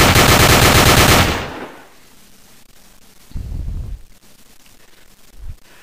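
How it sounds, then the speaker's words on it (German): A pistol fired in a rapid burst, a loud dense rattle of shots for about a second, then quiet with a couple of dull thuds. "feuerte dann mit seiner Pistole"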